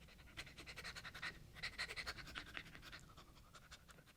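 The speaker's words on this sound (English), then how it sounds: "there's Patty, just sitting by my feet, smiling and panting." A dog named Patty pants steadily and close by while sitting at someone's feet, quick rhythmic breaths repeating throughout with no talking.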